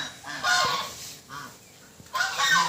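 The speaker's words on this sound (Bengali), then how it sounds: "এটা হচ্ছে ভালো পাহাড়ের রাজহাঁস" Domestic geese at Bhalopahar in Bandwan, Purulia, honk loudly and close by in two or three short, harsh bursts separated by a brief pause, with no one talking.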